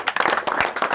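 A small group claps at a historic Nalanda university site, quick close handclaps blending into brisk uneven applause.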